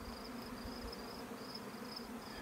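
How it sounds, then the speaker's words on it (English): Honey bees swarming around hives in a bee yard during a summer honey harvest, a steady droning buzz with high whining tones drifting in and out, continuous and fairly close with no talk. "before the bees get a chance to get at us."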